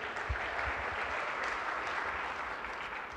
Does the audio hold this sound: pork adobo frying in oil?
no